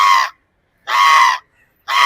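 A person imitates a crow's caw: three loud, harsh, evenly spaced calls, each about a third of a second long, with silence between them.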